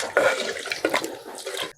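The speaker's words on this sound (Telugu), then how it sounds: "కొద్దిగా అట్లా మునిగేటట్టుగా వాటర్ పోసుకుంటే" Water pours steadily into a clay pot of country chicken for curry, a close, splashy rush lasting under two seconds before stopping abruptly.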